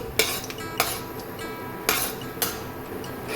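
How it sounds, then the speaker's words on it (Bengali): Cinnamon and cloves fry in a pan for a low-oil chicken curry, a soft sizzle broken by four sharp metallic clinks of a spoon stirring against the pan. "হালকা করে একটু নেড়ে নিচ্ছি"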